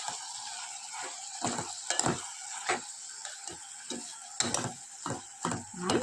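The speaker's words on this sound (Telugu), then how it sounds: "టమాటాలు కూడా స్మూత్ టెక్చర్లోకి వచ్చినాక చిక్కుడుకాయలు వేసుకున్నాం." Tomatoes cooked down to a smooth texture fry with broad beans in a pan. A soft, steady sizzle runs underneath while a spoon stirs and scrapes in irregular, close knocks and clatters.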